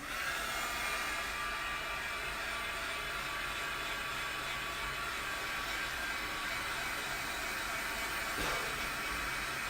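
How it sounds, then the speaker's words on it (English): A heat gun blows steadily on a wet gesso layer in an art journal, a loud, constant airy roar and hiss that holds throughout without pause. "I'm going to turn on the heat gun for a minute, so it's going to get loud for a second just to dry this layer"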